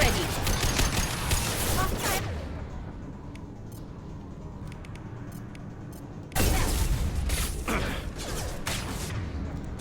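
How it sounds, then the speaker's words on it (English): Bursts of rapid gas pulse rifle fire crackle in Mass Effect 2, a heavy volley at the start and another sharp burst later, with mechanical clatter between. "that was a gas pulse rifle. I just heard gunfire"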